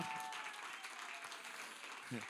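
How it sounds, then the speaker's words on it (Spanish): A church congregation claps in praise to God, a brief dense patter of applause with a faint voice at the start and a low murmur near the end. "Vamos, denle un fuerte aplauso de alabanza al Señor."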